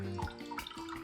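Whey water from homemade ricotta drains through cheesecloth, a short burst of close trickling and splashing.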